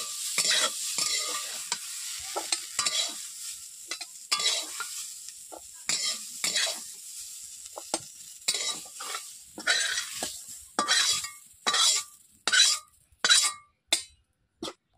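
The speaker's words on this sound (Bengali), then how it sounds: "এখন কড়াই থেকে আমি তুলে নিচ্ছি।" A metal spatula scrapes and clinks against a wok as fried long beans are scooped out. Faint sizzling hiss runs under irregular stirring strokes, and the scrapes grow sharper and more spaced toward the end.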